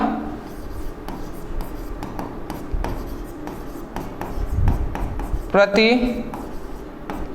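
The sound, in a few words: writing an answer by hand during a maths lesson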